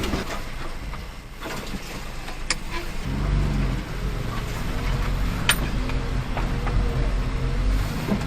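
Loaded mini truck on Maxxis MU07 Ceros tires driving up, its engine rising into a steady mid-pitched drone with rolling tire noise, close and continuous.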